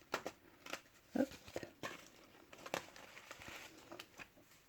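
Paper crinkles and rustles softly as small spring-themed envelopes are packed, with quiet intermittent crackles and brief handling taps close by and no talking.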